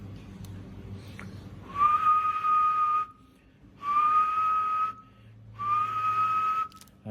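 A person whistles into the microphone of a Kenwood TS-790S VHF/UHF/SHF transceiver in LSB mode: three sustained whistle tones, each sliding up at the start and then holding steady, separated by short quiet gaps.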